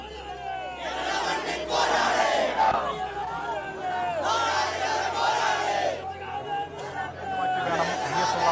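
A large, dense crowd presses around a slow-moving vehicle during a procession toward a recreation ground, a loud continuous roar of shouting and chanting voices with surging cheers.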